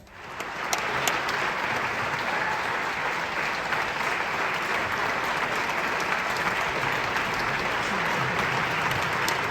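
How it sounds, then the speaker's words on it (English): An audience at the Tallinn Black Nights Film Festival awards ceremony breaks into steady, sustained applause for a competition jury, a dense clapping crowd heard without speech. "Applause for the Critics' Picks competition jury."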